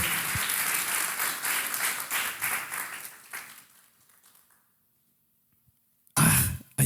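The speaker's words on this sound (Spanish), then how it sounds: "¿Cuántos le pueden dar un fuerte aplauso al Señor?" Church congregation at a Spanish-language service claps together, dense applause that thins and fades to near silence after a few seconds before a brief loud burst of sound returns at the end.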